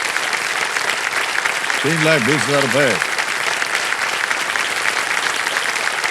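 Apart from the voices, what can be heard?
studio audience applause on game show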